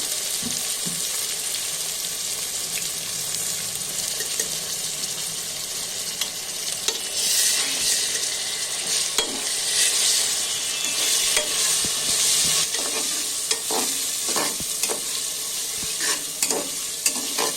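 Ginger and garlic paste fries and is stirred in a pan for spicy beef, a continuous loud sizzle with repeated scraping strokes and spatula clinks building toward the end, with no speech.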